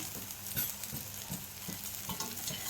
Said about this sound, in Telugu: సోయాబీన్ వేసి వేయించుకోవాలి. వేయించుకుంటూ కొద్దిగా సాల్ట్ వేసుకోవాలి.